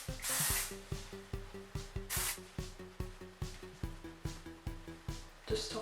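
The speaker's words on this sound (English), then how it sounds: "I'm going to use this Oribe hairspray" Oribe hairspray is sprayed onto heavy, curled hair in two short, loud hissing bursts, one near the start and one midway, over steady rhythmic background music.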